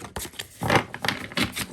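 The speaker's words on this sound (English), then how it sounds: "So I'm shuffling like this because I'm going to be laying out cards" A deck of playing cards being shuffled by hand, giving short crackly riffling bursts in quick succession, close and fairly quiet, with no talking.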